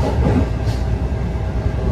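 A train running on rails in New Jersey, heard from inside near the door: a loud, steady low rumble with rhythmic clickety-clack of wheels over the track.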